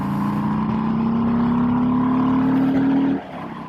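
A 2018 Harley-Davidson Breakout cruiser accelerating on an open road, its engine drone rising steadily in pitch for about three seconds before easing off abruptly.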